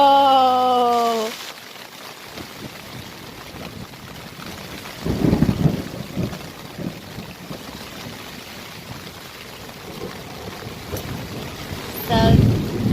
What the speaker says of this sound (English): So now we're just going to bed listening to this thunder